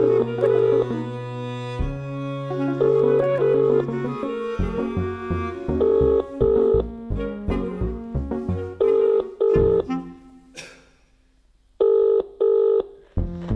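Electronic telephone tones on a call reaching an answering service: a sequence of clear beeps, some held and others in quick pulses, then a brief quiet gap before a final pair of tones.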